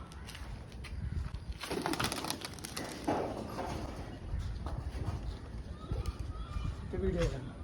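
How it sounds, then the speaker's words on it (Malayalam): Pigeons cooing in a pigeon loft, repeated soft coos and fluttery bird calls close by, with a voice talking over them and some background bustle. "കൊറേ പ്രാവ് ഉണ്ട്"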